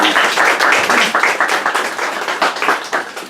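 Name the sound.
audience applause for a presentation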